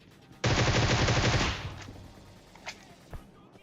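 A rapid burst of automatic gunfire in PUBG Mobile, a loud rattling volley of about a second that trails into echo, followed by two sharper single shots further off.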